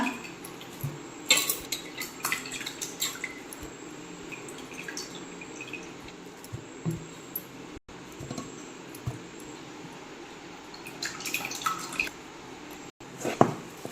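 A spoon stirs semolina into batter in a bowl, making repeated light clinks and scrapes against the bowl with wet, sloshing mixing sounds in an irregular rhythm.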